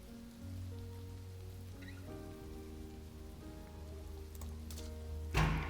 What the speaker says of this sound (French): La pluie éclabousse les ruelles en continu de chansons sans paroles.